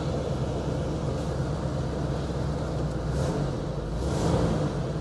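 A 1977 Pontiac Firebird Esprit with a 350 cubic inch V8 running, a deep, steady, close rumble that holds evenly throughout with a slight swell in the final second, heard alone.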